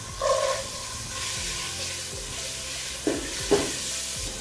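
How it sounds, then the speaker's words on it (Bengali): Boneless chicken and cubed onion frying in a pan, a continuous sizzle broken by a few sharp stirring scrapes and clinks, close and fairly loud with no talking. "এর মধ্যে চিকেন দিয়ে দিচ্ছি, বোনলেস চিকেন। সাথে কিউব করে কেটে রাখা পেঁয়াজও দিয়ে দিচ্ছি।"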